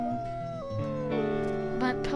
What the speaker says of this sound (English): just howl a couple times.